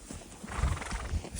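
Horses on a snowy winter mountain trail in the Irendyk ridge: close hoof clip-clops and snorting breaths with a short whinny, uneven and fairly loud, no talking.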